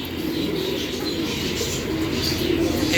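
Ram pigeons coo nearby in low, soft, repeated murmurs, a steady throaty burble with a faint chirp or two, no talking.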